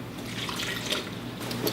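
Three-quarters of a cup of water is poured into a blender for a lemon juice and olive oil dressing, giving a steady close splashing trickle that runs the whole time.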